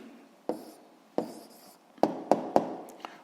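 An answer to a physics exercise is written out by hand: a few quiet pen strokes and small scratches, then a quick run of sharper taps and scribbles near the end.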